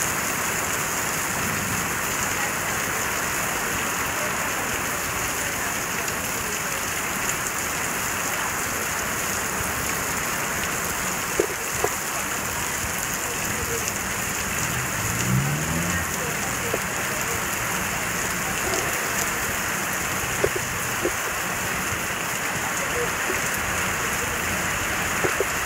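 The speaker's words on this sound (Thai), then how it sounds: "มันไม่ใช่เรื่องแปลกหรอกนะครับฝนจะตก" Steady natural rain falling and pattering on surfaces, a dense, even hiss that continues without a break for the whole stretch.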